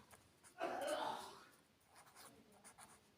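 A teacher writes a sentence on a board during a lesson, with one brief scratchy stroke burst up front followed by lighter intermittent strokes, while the teacher talks.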